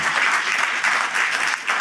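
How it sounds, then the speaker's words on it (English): Hearty applause from a conference audience honoring an ambassador after a telecom policy session, a dense steady wash of clapping close by with no voices over it. "I hope everybody could give a hearty round of applause to Ambassador Verveer"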